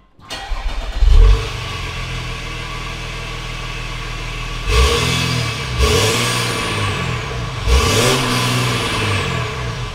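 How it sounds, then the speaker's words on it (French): An Audi engine with its diesel particulate filter swapped for a downpipe starts, settles into a loud idle, then revs sharply three times, each blip rising and falling back to idle. "Et voici le bruit qu'elle fait une fois avoir changé le FAP."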